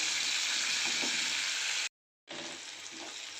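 Onions frying in a pan for chole masala give a steady, close sizzle, broken by a brief silent gap before the frying resumes with no talking.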